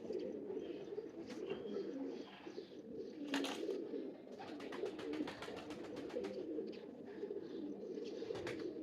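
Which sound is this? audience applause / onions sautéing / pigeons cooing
pigeons cooing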